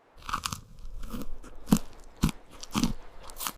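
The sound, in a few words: biting into grilled Mexican corn with feta and chili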